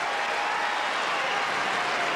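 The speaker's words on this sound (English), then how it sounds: "The Americans are going crazy in the stands, standing up, cheering their man on." At a 2000 Miami tennis final between Sampras and Kuerten, an American crowd in the stands keeps up a steady, broad wash of applause and cheering at an even level, heard from a distance.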